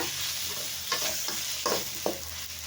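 Chopped ripe tomatoes sautéing in a pan for Chettinad chicken thokku, a soft continuous sizzle broken by three or four distinct spatula scrapes and stirs, close and fairly quiet with no talking.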